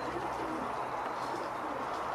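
Pigeons coo softly at a loft during a flock flight, a faint, low, repeated cooing over quiet outdoor ambience.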